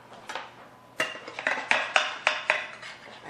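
Plates and cutlery clink and clatter while a salmon dinner with broccoli is plated in a home kitchen, with a string of sharp, close metallic and ceramic knocks spaced irregularly about every quarter second, no talking.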